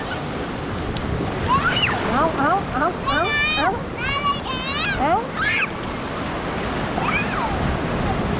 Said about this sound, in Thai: ไอ้มุกอย่าไป เดี๋ยวทะเลดูดลงไป